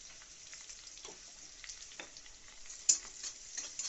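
Chopped onions fry in a pan with tomatoes while being stirred, a soft steady sizzle with occasional light scrapes of the spatula and one sharper clink, close and fairly quiet, no voices.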